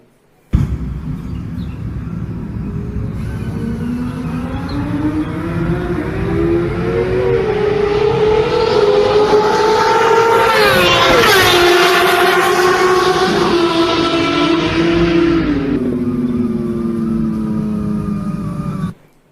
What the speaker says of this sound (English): Initially the vehicle is approaching to the observer. Next the vehicle is leaving the observer.